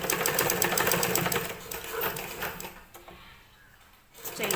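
A sewing machine runs a rough stitch along a blouse seam, a busy close rattling whir for about three seconds before dropping away, then picking up again at the very end.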